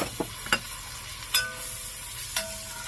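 Minced garlic spoon-dropped into a pot with onion powder for a one-pot cheesy sausage rotini, giving a soft steady sizzle with a few light clinks of a spoon against the rim, close and fairly quiet.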